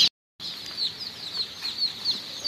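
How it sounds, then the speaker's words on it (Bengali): Native desi chicken chicks on a poultry farm, a steady chorus of high chirps and peeps close by, starting after a brief silent gap and continuing throughout. "এই হচ্ছে আমাদের অরিজিনাল দেশি মুরগির বাচ্চা।"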